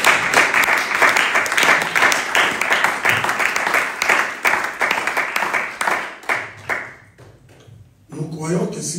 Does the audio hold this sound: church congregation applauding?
yes